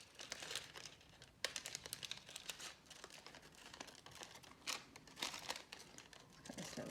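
Greaseproof paper being cut and crinkled close up, with quiet irregular rustles, crackles and snips coming in bursts, alone with no talk.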